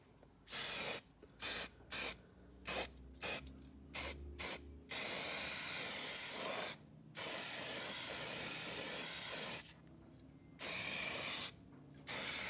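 Aerosol spray paint hisses onto a Star Wars Legion torii arch terrain piece inside a spray box, in a series of short close bursts followed by a few longer sustained sprays with brief gaps.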